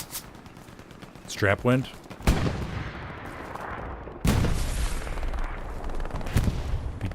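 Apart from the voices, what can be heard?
suppressive gunfire in a console war video game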